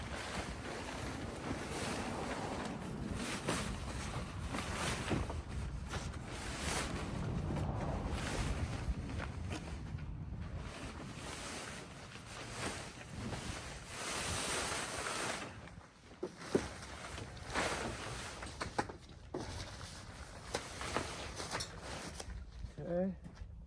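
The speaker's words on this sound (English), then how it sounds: "It is sort of a windy day." Wind buffets a microphone outdoors in a steady roar with gusty swells, and a voice talks intermittently underneath while a cover is fitted onto a UTV.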